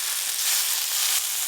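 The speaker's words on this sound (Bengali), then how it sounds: "অল্প একটু জল দিয়ে মশলা বেশ ভালো করে কষে নেব" Spiced masala sizzling and frying in a pan with a splash of water and salt, a steady close hiss over about a second and a half with faint stirring scrapes.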